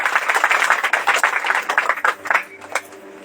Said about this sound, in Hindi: खुशी से हम ताली बजाएं